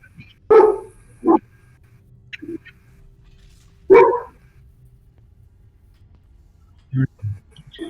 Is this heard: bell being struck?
no